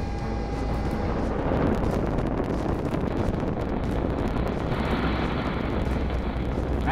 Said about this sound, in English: Swooshing sound you just heard was the Imperial Oil Limited number one well at Leduc